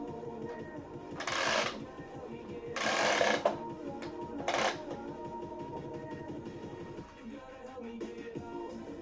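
A sewing machine stay-stitching around the edge of fabric, heard in three short bursts of loud whirring stitching separated by quieter room tone.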